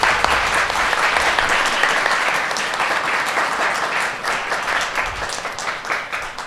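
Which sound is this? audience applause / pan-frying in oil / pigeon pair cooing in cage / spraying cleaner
audience applause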